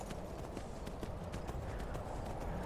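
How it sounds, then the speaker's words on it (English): Horse hoofbeats while riding in the video game Skyrim: a steady, continuous clip-clop of galloping hooves that stays loud and even throughout, over a dense background. "The horse riding."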